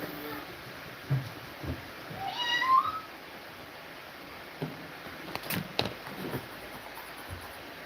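A pet cat lets out a single rising meow near the start, fairly close but not loud, with quiet room noise and a few soft knocks before and after.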